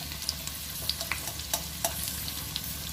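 Onions and green chillies frying with turmeric powder in a pan, giving a steady close crackling sizzle with faint pops and occasional light stirring clicks, no voices.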